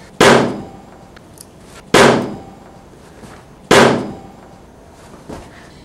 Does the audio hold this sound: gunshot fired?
yes